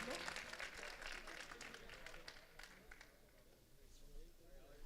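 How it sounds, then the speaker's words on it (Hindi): Clapping from a crowd at an All India mushaira poetry gathering in Jalalpur, dense and steady for about three seconds before thinning into scattered claps and room murmur. "तालियां बजा दीजिए आप लोग।"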